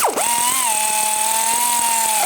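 Power tool tightening brake caliper pins on a 2014-2023 Jeep Cherokee, a loud close whirring drive that spins up quickly and holds steady for about two seconds with a faint rattling undertone.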